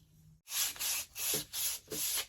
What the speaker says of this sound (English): By the way, I'm sanding this plastic.